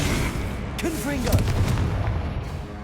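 Confringo explosive spell cast in Hogwarts Legacy, a loud booming blast with sharp cracking bursts over constant game rumble, and a brief voice in the middle.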